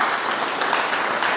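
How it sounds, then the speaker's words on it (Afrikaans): An audience claps and applauds in a short, dense burst of even clapping, fairly loud with no pauses. "wil ek hê jy moet julle hande klap gee vir die mooiste vrou in"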